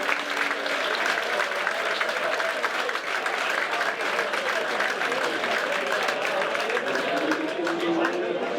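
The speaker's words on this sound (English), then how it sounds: "a big crowd here at Mariners Park in the sunshine this afternoon" A big crowd at a South Shields v Scarborough Athletic football match at Mariners Park on a sunny afternoon, a loud continuous roar of applause and chatter filling the ground, with a commentator speaking over it.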